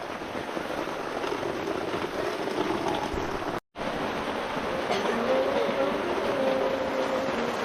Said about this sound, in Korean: 비가 엄청나게 옵니다